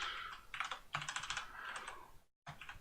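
Clattering bursts of typing on a computer keyboard, fast irregular key taps in several quick runs, close and fairly quiet, with a brief pause near the end before the tapping resumes.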